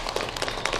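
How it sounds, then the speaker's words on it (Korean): A brief stretch of dense, continuous clapping from a seminar audience in a lecture hall, with no voices over it. "박수 부탁드리겠습니다."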